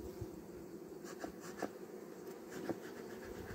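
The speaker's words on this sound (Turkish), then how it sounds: "Şimdi kovanı açıp kontrol edeceğim. Şu kattaki arıları halen aşağı inmemiştir." Honeybees buzz inside an opened beehive while weak colonies are being combined. A faint, steady hum carries light scraping clicks from hive parts being handled.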